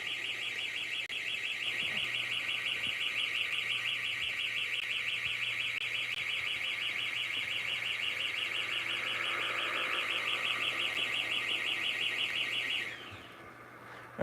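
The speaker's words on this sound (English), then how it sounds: "sorry about the beeping. We're having problems with our plumbing." A household plumbing alarm sounds a loud, continuous rapid beeping for about thirteen seconds before it abruptly stops, leaving quieter room noise.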